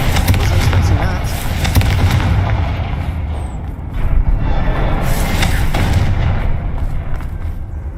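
Booming explosive blasts from the Confringo spell in Hogwarts Legacy roar loud and dense, with rumbling impacts and crackling debris continuing throughout, and a second burst of blasts midway.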